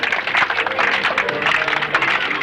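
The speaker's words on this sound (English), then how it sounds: "Everybody start clapping." Crowd applause with many hands clapping together, a dense, steady patter sustained throughout at fairly close range with no pauses.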